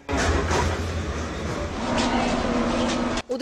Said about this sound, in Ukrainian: Відео з сусіднього потяга, що проноситься станцією без зупинки.